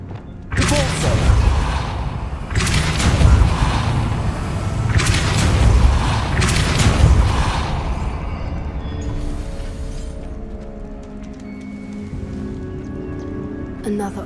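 A Depulso force spell cast in the video game Hogwarts Legacy, heard as a series of deep booming blasts with thuds, loud and close, followed by a softer tonal game background.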